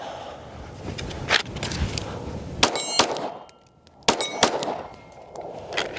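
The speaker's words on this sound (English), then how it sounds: "Need that follow-up shot to hit." Sharp metallic clangs of Shadow Systems DR920 Elite pistol shots striking a steel target, a few separate ringing impacts spaced out with quiet decays between them, no talking.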